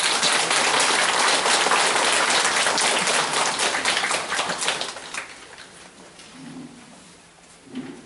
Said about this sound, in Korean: 큰 박수로 환영하여 주시기 바랍니다.